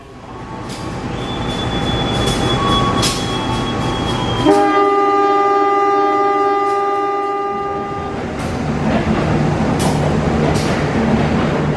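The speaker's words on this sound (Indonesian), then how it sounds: "Kereta api Pasundan akan berhenti di stasiun." Pasundan passenger train pulling into a station: a loud, close, sustained horn blast over a heavy rolling rumble, followed by squealing wheels as it slows.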